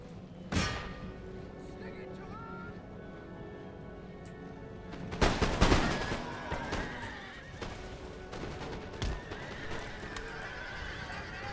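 Scattered musket volleys in the battle game Total War: Empire. Two loud cracks ring out, one strong burst near the middle, and then fainter shots, all over a steady battlefield din with horse whinnies and hoofbeats.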